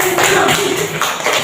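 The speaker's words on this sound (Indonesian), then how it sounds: "Tepuk tangan untuk kelompok 1." A class group claps for the first student team after their pencil-and-ruler holder display, a short burst of close, dense hand claps with some room noise and no clear speech.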